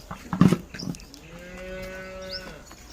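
A pure Jersey breed dairy cow moos once at a cattle sale, a long, steady, tonal low call rising from a brief thump and shuffling, fairly close and clear with no talk over it.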